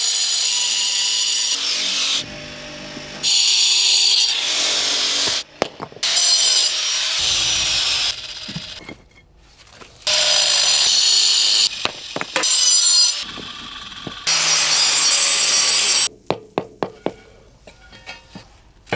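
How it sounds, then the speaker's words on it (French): An angle grinder cuts paving stones for a courtyard driveway in loud, close bursts of high-pitched whine, several seconds each, separated by pauses, knocks and clatter as the stones are handled. "Puis, travaille avec la meuleuse d'angle."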